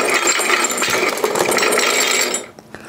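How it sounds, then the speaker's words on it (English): A Marvel Legends Infinity Gauntlet toy plays its electronic sound effect when its fingers are moved: a loud, dense, crackling burst holds steady for over two seconds, then cuts off sharply, leaving a few faint clicks. "Move all 5 fingers in this sequence to activate the sounds without having to hit the Mind Stone."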